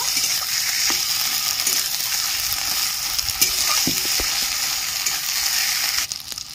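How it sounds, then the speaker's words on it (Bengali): Ground drumstick leaves stirred into onions fried until red, with a steady close sizzle of hot oil and scattered spoon scrapes throughout, and no talking. "বেটে রাখা সজনে পাতা দিয়ে দিচ্ছি। পেঁয়াজের সাথে ভালো করে মিশিয়ে নেব।"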